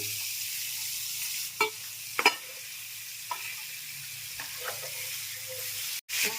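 Amodi fish pieces frying briefly in a little hot oil in a frying pan, a faint steady sizzle underneath with a few sharp spatula knocks and stirs, no talking.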